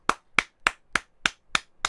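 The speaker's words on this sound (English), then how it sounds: "I want to give you a round of applause" Seven slow, sharp, evenly spaced claps, loud and close, like one person clapping alone in a steady rhythm.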